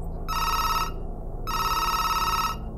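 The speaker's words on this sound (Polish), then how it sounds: "Głośny dźwięk telefonu budzi detektyw Lindy Gligorijewicz" A telephone bell rings loudly in two long, evenly spaced bursts with a brief gap between them, standing out clearly over a low background hum.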